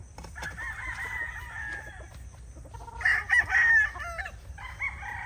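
Banded local WPC stag roosters crow loudly and close by, one crow after another with some clucking, and there is no talk.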